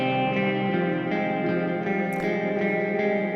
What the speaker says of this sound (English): this is kind of lo-fi reverb, not supposed to be very realistic, but it can be very resonant at times